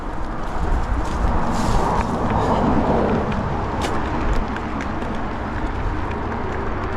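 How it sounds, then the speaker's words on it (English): Road traffic rumbling past an e-bike rider on a road, a broad steady roar of passing vehicles that swells and fades, fairly loud and close, with no speech. "Sounds like we got some traffic here today"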